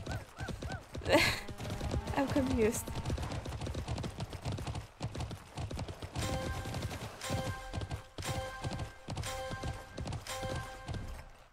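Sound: horse hooves clip-clopping in Alicia Online video game

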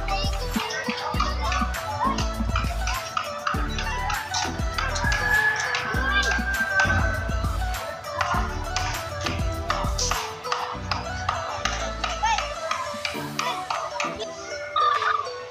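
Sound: chicken clucking

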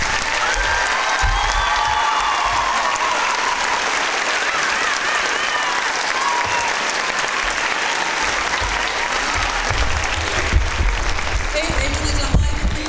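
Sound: applause with cheering

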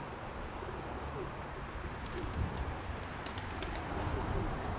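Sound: pigeon cooing

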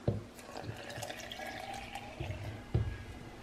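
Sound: water being poured in for lentil hot chocolate

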